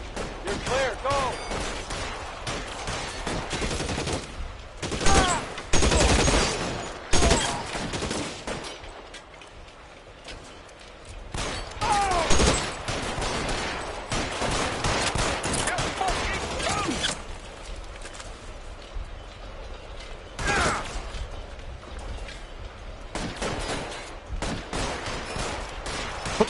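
Gunfire in the LA Noire vice case shootout, with scattered loud shots and bursts spread through a tense exchange under shouted dialogue, some volleys sharp and close, others separated by lulls.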